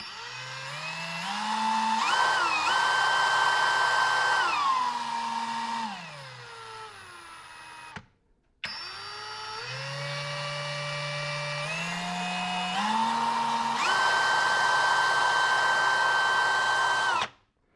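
A Kobalt 24V 3/8-inch cordless right angle impact wrench runs through several distinct variable trigger speed steps, rising and falling in pitch, with one brief cutoff midway before spinning up again.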